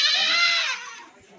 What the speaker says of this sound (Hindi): और ये नंबर आ रही है 5 पे बकरी।